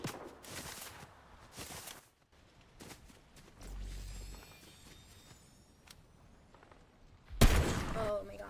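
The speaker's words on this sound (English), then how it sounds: "Do you see how fast he's shooting?" Rapid bursts of enemy gunfire in a competitive shooter video game, quick clustered shots separated by quieter gaps, with a loud sharp blast near the end and a player's voice now and then.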